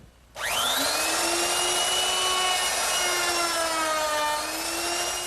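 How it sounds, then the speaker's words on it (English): A router fitted with a half-inch roundover bit shapes the edges of a wooden trestle table top, starting abruptly and holding a loud, steady high-pitched whine with a slight dip in pitch as it cuts, alone without talk. "I'm going to use a ½ inch rounding over bit."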